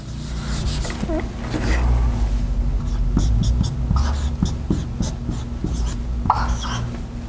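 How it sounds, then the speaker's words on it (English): A board being erased during a talk on building a dental practice, giving soft repeated rubbing and scraping strokes close by, with a few brief spoken words mixed in. "I'll just erase that right there"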